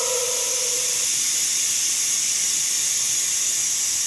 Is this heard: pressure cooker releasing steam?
yes